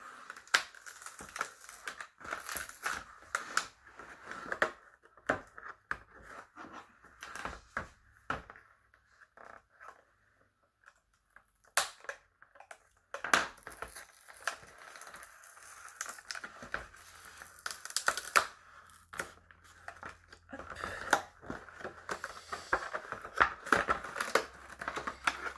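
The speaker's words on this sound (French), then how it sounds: "je l'ouvre proprement parce que j'aime bien garder, j'aime bien garder mes emballages" A cardboard shipping box is opened carefully, with a long series of close, crisp tearing, crinkling and scraping noises in irregular bursts, separated by brief quiet pauses.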